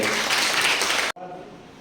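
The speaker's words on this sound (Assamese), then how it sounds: "বাইদেউ এটা হাত চাপৰি হ'ব" Audience applause at a Bihu workshop held by school students, a dense sustained burst of many hands clapping that stops abruptly, leaving a quiet room with faint background noise.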